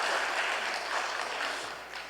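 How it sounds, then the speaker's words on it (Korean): A church congregation applauds its pastor in a brief, moderately quiet burst of clapping that gently fades over about two seconds. "김진홍 목사님 박수로 우리 격려하십시다"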